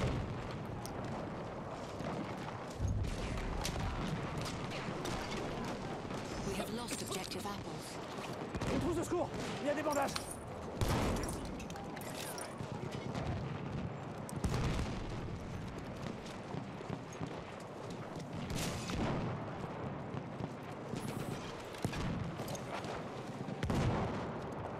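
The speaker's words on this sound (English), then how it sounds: "Quite a few grenades coming in" Grenade explosions land near the player in Battlefield 1 on the Prise de Tahure map, with repeated booms and scattered gunfire over a constant battlefield din at moderate volume.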